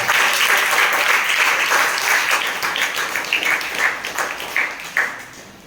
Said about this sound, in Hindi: विज्ञान सदन की शुरुआत जोरदार तालियों के साथ।